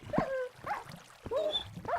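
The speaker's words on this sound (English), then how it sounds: "My dog tried to follow me or something." A dog whimpers and yips in the Minecraft video game, several short high-pitched whines coming in quick bursts, fairly close and alone without talk.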